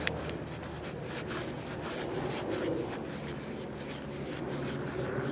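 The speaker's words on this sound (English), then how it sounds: "I just Scotch-Brite the skirts" A Scotch-Brite pad scours the skirts of a 1956 Johnson 15 HP outboard engine block by hand, producing a steady rapid scrubbing rasp in back-and-forth strokes, close and continuous, with no voices.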